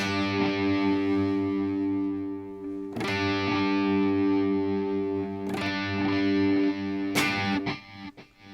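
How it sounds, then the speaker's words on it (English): Gritty, distorted guitar tone with echoing repeats from a Chase Bliss Big Time delay pedal, a few sharp attacks retriggering the sustained, fuzzy wash before it thins out at the end. "the delay repeats are more distorted, which is kind of cool"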